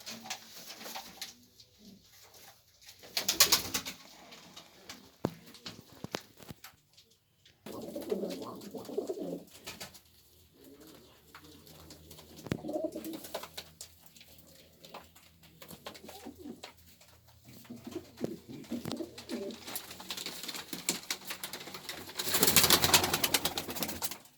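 Pigeons coo in repeated throaty phrases inside a coop, some close and loud, others softer, with bursts of wing flutter and background bustle.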